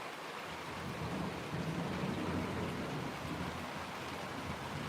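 A thunderstorm outdoors near an avocado tree, with thunder rolling in the distant south sky as a steady low rumble that blends into the wash of rain over the whole stretch, with no voices.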